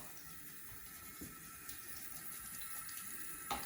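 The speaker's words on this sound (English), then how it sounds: "just get a little bit of cool water, just sort of rinse it off" Cool water running and splashing as soap is rinsed out of upholstery fabric, a steady soft wash of flowing water with a few small knocks and a brief louder splash near the end.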